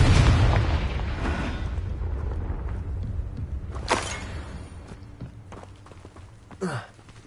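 A Confringo blasting spell explodes in Hogwarts Legacy, a loud broadband boom opening the clip and rumbling on, followed by two sharper bursts later, with no voices.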